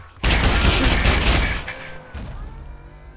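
Weapon fire in the zombie-survival game Scum: a loud, close, rapid burst of shots lasting over a second, then a fading echoing tail and a quieter low rumble.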